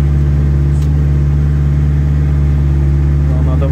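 A homemade tractor engine pushes through deep snow in heavy snowfall, a loud, close, steady drone that holds unbroken throughout.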